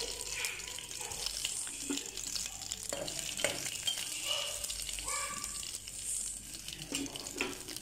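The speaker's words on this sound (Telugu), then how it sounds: "జీలకర్ర ఆవాలు ఒకటి వట్టి మిరపకాయ కాస్త కరివేపాకు వేసి కొంచెం వేపుకోవాలండి." Cumin, mustard seeds, a dried chili and curry leaves fry in hot oil for peanut chutney, giving a close, crackling sizzle with popping and scraping stir sounds.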